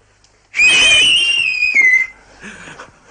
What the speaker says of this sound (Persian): من دوباره یاد گرفتم چطور سوت بزنم